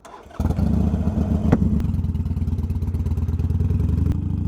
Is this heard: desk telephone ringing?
no